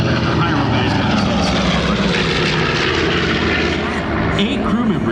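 A PBJ bomber roars low over the deck at an air show, its piston propeller engines a loud, steady, close drone that swells slightly as it passes.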